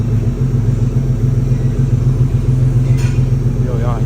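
Infiniti Q50 fitted with test pipes, idling with a deep, steady exhaust rumble close by, constant low drone throughout with people talking over it.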